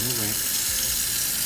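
A tie-dyed t-shirt is rinsed under a running tap, a steady hissing rush of water filling the whole moment, with a brief voice at the very start.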